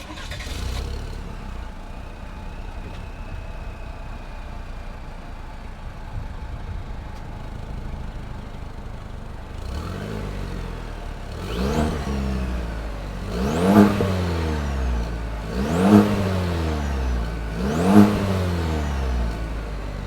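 A 2022 Chevrolet Silverado 1500's 2.7-liter turbocharged four-cylinder engine idles, then revs repeatedly, with three or four sharp throttle blips rising and falling in pitch through the exhaust, close and loud.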